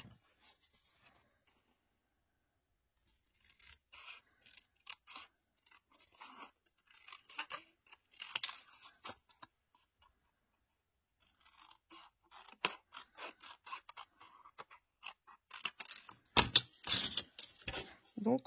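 Scissors snip through paper or card for an advent calendar craft, with quiet intermittent cuts and rustling after a silent start, growing denser and louder toward the end.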